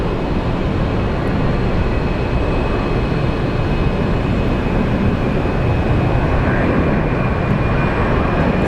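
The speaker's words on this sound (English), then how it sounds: "Very normal takeoff for an American Airlines 737." An American Airlines Boeing 737 takes off from Phoenix Sky Harbor International Airport, a loud, steady, broad engine roar that holds without pause and drowns out any other sound.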